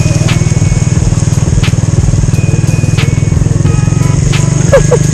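A motorcycle rides through muddy floodwater in Malico, San Nicolas, Pangasinan, its loud close engine pulsing in a steady rapid rhythm, with splashing bursts and a brief vocal sound near the end.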